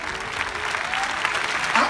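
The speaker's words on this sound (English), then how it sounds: "You don't have to clap." A church congregation at a Wednesday Bible study claps in a steady wash of applause, with a voice faintly audible beneath.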